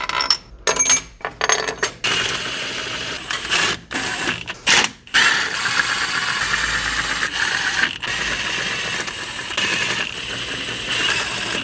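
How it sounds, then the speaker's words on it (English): Metal head bolts are dropped one at a time into a 12 valve first-generation Cummins cylinder head, each making sharp, close metallic clinks, followed by a quieter stretch of faint mechanical noise. "I'm putting all these head bolts in the exact same spots that they came out."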